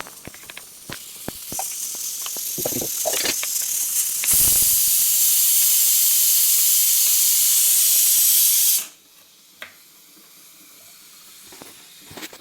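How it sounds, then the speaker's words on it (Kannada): A pressure cooker releases steam in a home kitchen: after scattered clinks, a loud, sharp hiss bursts out and holds for about four seconds before stopping abruptly, leaving quiet room sound. "ಈ ಫಸ್ಟ್ ನಮ್ಮದು ಕುಕ್ಕರ್ ಹೊಡ್ತಾ ಇದೆ"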